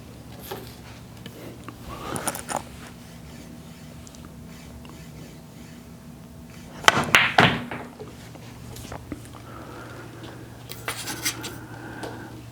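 A pool cue strikes the cue ball for a powerful draw shot with English, cut angle and rail contact, heard as a sharp close knock and clatter midway, with fainter taps of balls before and after.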